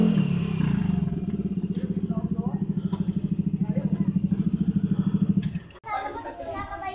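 Motorcycles arrive at a home, one engine throbbing in a close, rapid, steady pulse for several seconds before cutting off with a clatter, then lighter noises and voices follow.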